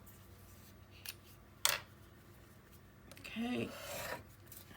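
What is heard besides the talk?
miter tool cutting paper corners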